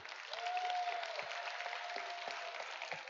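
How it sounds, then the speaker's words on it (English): Audience applause at an FTC robotics league tournament awards ceremony in Northern Nevada, a steady wash of clapping held at moderate level with a faint sustained tone running through it. "Let's give them a big round of applause for their dedication."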